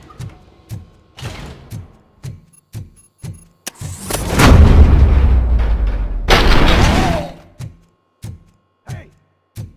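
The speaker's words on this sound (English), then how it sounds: "Hey, am I hearing gunshots?" Gunfire in the RoboCop: Rogue City video game: a string of sharp, evenly spaced shots, then a long heavy rumbling blast with a second burst, followed by more isolated shots, loud and close.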